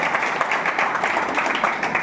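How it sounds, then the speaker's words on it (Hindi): A seated crowd at an insurance agents' training convention in Varanasi claps together, a dense, even patter of applause throughout. "एक बार तालियां दोस्तों आप सभी के लिए।"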